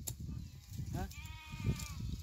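A sheep bleats once, faint and somewhat distant, over a low rumbling outdoor background as the flock grazes in a rural pasture, with no clear talk.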